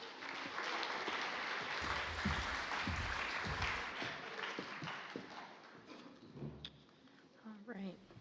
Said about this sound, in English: If you could please give our health and wellness team a round of applause